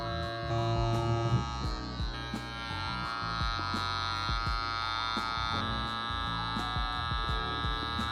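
A vacuum sealer's motor hums steadily while it seals a bag, a constant close drone that holds for the whole stretch with no talking.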